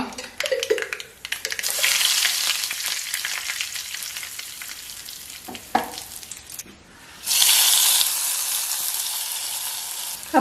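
Mustard seeds spluttering in hot coconut oil while tempering an Onam sadya dish, a loud, dense crackling sizzle with a brief lull midway before a second strong burst, no voices.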